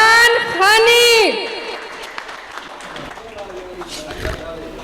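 A voice rings out briefly, then an audience bursts into a dense, steady wash of applause to welcome Irfan Khani to the stage at a literary academy gathering. The clapping continues for several seconds at an even level.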